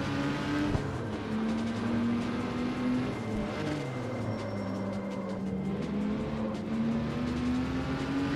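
A Porsche 911 engine races in the video game CarX Street, holding a steady, droning rev with pitch rising and falling through gear changes and a brief thump, continuous and fairly loud.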